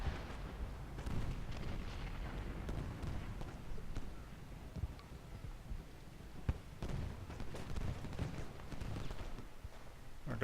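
Musket volleys and artillery in a Gettysburg battle game: a continuous low rumble of distant cannon, crackling with scattered musket shots at a moderate level.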